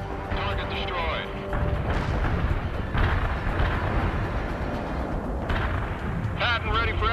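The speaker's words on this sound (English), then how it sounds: "Calling in a heavy artillery barrage on your position" A heavy artillery barrage explodes in the World in Conflict video game, with loud booms and rumbling impacts rolling continuously under radio-style voice chatter.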